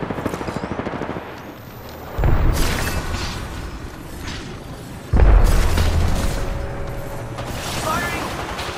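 Arc star grenades detonate in the battle royale shooter Apex Legends, two heavy booms a few seconds apart, each followed by a crackling, rumbling tail over faint voices.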